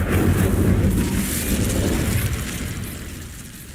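A loud fiery whoosh and roar from an Incendio fire spell in Hogwarts Legacy erupts at once, then rumbles and fades steadily over a few seconds with no voices.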